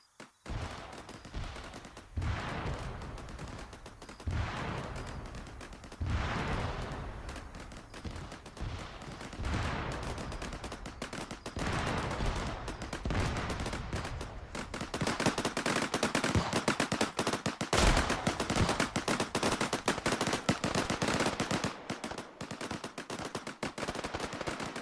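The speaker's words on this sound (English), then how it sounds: "We've detonated 2 of the ammo caches." Ammo caches blowing up in the Arma 3 video game set off a long run of rapid crackling explosions and popping gunfire-like bursts, dense and continuous, growing louder and busier toward the middle before easing.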